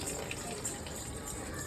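Water gushes steadily from a tap, a continuous rushing fill heard fairly quietly and without pause.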